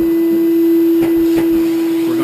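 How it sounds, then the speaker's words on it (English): A shop vac runs steadily while cleaning out a VAL6 gas-fired heater, a close, constant motor whine with a couple of brief bumps and shifts in tone. "So what we'll do is we'll take our shop vac."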